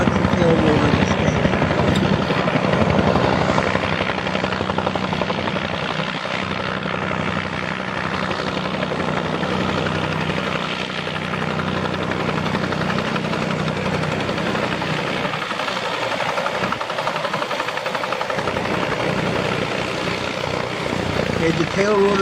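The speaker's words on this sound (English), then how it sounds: "The tail rotor's coming off the helicopter right now." A helicopter over Huntington Beach, near a hotel, gives a loud, continuous rotor and engine roar as its tail rotor comes off, and the drone stays steady and close throughout.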